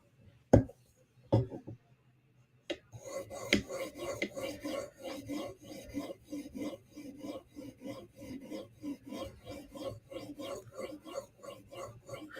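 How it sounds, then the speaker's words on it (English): A Cruwear Para 3 knife blade is drawn across Halfstone RS and Premium CBN sharpening stones: a few isolated knocks, then a steady run of close, rhythmic rasping strokes repeating evenly to the end. "we're sharpening your Cruwear Para 3 with Halfstone RS and Halfstone Premium CBN stones"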